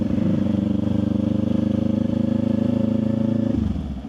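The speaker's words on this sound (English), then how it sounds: "letting the engine braking do a lot of my stopping for me before I even grab the brakes" A motorcycle engine drones steadily at high revs, then the pitch drops as the engine winds down near the end, with the rider using engine braking to slow before touching the brakes.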